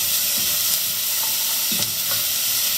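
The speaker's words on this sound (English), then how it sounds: "after the onions, I'm just gonna wait for them a little bit to brown" Chopped onions browning in a pan: a loud, steady sizzle and hiss of frying that runs throughout, with a few soft clicks of stirring, close and with no talk.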